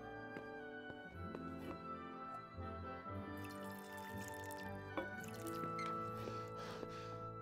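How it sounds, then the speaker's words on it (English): A drink is poured in the video game Kingdom Come Deliverance: faint, quiet liquid splashes and drips over a sustained tonal background, with no talking. "Pour us a drink."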